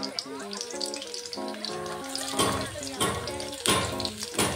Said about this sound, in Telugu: ఈ రెండు కొంచెం ఫ్రై అవ్వాలి.